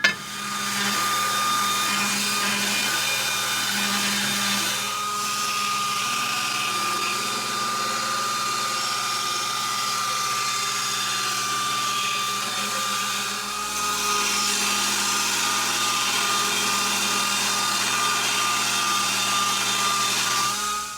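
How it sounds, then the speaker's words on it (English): Steady, loud whine of a power grinder working a steel Roman gladius blade at the rough-grind stage, droning continuously for the whole stretch with a slight shift in tone partway through and no talk. "So, we're working on the rough grind."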